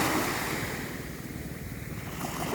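Sea waves washing at Anging Mamiri beach in Makassar, a steady loud surf wash with wind rumble buffeting the microphone, continuous throughout with no voices.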